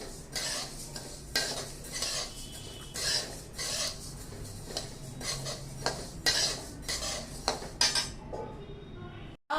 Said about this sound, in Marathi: आता आपल्याला साधीच ही बडीशोप भाजायची आहे